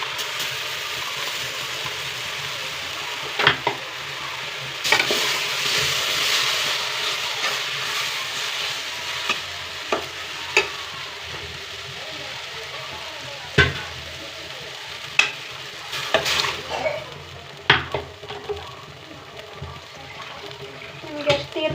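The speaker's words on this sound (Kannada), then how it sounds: "ಇವಾಗ ರುಬ್ಕೊಂಡಿರೋ ಮಸಾಲೆ ಹಾಕೋಣ" Ground masala for sprouted horse gram sambar fries in a pot, a constant sizzle broken by repeated knocks and scrapes of a stirring spoon, close, growing busier near the end.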